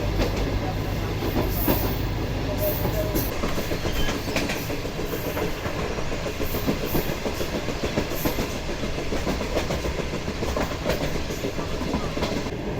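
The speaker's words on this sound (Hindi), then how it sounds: "GU20 बिल्कुल तैयार है ट्रेन को पहाड़ के ऊपर चढ़ाने के लिए" A GU20 locomotive hauls a passenger train uphill into hilly, deserted country, a continuous loud rumble with rhythmic clickety-clack of wheels on rails, heard from inside the carriage.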